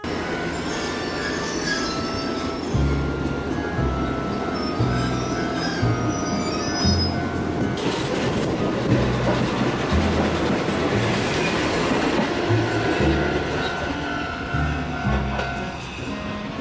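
A Kotoden Kotohira Line train rolls past close by for the full stretch, wheels squealing on the rails with a steady clickety-clack of the cars. It stays loud throughout, on a windy day with a typhoon approaching.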